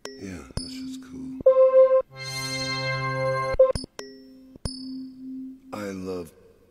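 Bright synthesizer pad tones sounding in held, overlapping notes with short dings and bell-like pings between them, clear and up front, ending with a brief spoken voice.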